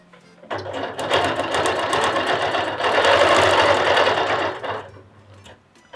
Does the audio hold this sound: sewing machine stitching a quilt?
yes